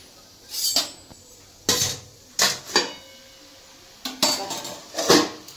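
Metal pot and lid clanking as a lid is set over a pot for steaming an eggless sponge cake, five or six sharp close clatters spaced irregularly, no talk.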